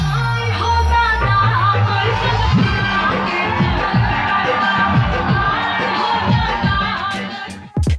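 An unruly crowd at an Akshara Singh stage show in Motihari erupts in uproar, a loud dense mass of shouting and yelling voices with thumps and bursts of noise, continuous throughout before a sudden cut at the end.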